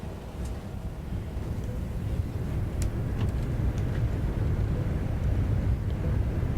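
An Airbus A319 rolls out after touchdown with its thrust reversers deployed, giving a loud, steady low roar and rumble that holds throughout with faint clicks above it.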